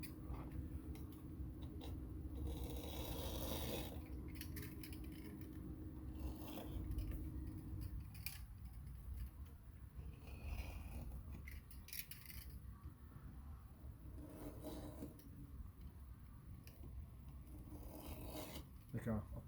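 Blade rasps and scrapes as an X is cut into a fiber optic star acoustical panel, with repeated short cutting strokes and rubbing, fairly faint, under a voice talking.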